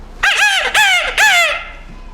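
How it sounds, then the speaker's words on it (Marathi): A grey junglefowl in the forest crows loudly and close, three rising, strained calls in quick succession, then fades into quiet. "राखाडी कोंबडा असतो जंगल"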